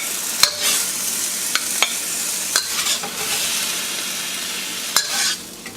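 Watermelon rind and pork belly sizzle steadily in a hot wok over high heat, with sharp scraping clicks of a utensil stirring at irregular intervals and no talking.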